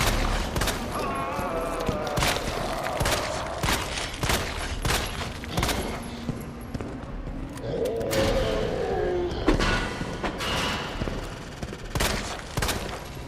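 Repeated gunshots fired at a boss's eye in Resident Evil 2 Remake, loud regular cracks spaced through the fight, mixed with deep creature roars and groans.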